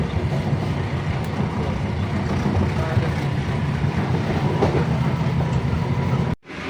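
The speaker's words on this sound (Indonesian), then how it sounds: "Setelah sampainya di stasiun Purwokerto" A train arriving at Purwokerto station in Indonesia, heard as a steady loud rumble of rolling rail cars with faint rhythmic clatter, continuing nearly throughout before cutting off abruptly at the end.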